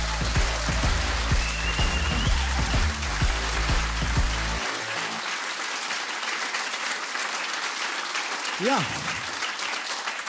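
A comedy-show crowd applauds as a comedian is introduced, loud dense clapping for several seconds that then thins and drops away, with a brief spoken interjection near the end.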